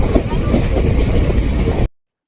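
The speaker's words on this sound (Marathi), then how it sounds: "नांदेडवरून ट्रेन निघली." A passenger train pulls out of Nanded station with a loud, steady, close rumble of wheels and carriages that cuts off abruptly near the end.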